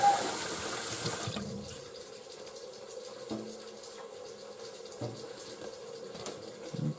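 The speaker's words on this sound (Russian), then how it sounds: "вот смотрите, кран, из-под крана течет вода" Steady running water pours from a tap, a continuous hiss with a louder burst at the start and a few faint clunks in the background.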